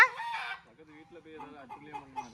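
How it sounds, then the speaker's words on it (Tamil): A penned rooster in Nagercoil, India, crows loudly nearby, followed by a run of softer clucking and chicken calls. "சேவக்கோழி எதுக்குமா பிடிச்சு போட்டிருக்காங்க?"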